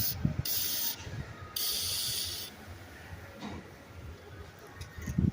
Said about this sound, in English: This is the lubricant I use for the window tracks, and I just spray it in like this